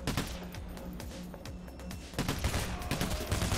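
Gunfire in the heist shooter Payday: The Heist, rapid bursts of automatic shots in a steady rhythm, moderately loud, with heavier firing near the end and no talk over it.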